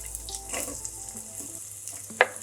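Vegetables sizzle and crackle softly in a hot pan, a quiet continuous frying hiss with a brief louder clatter near the end.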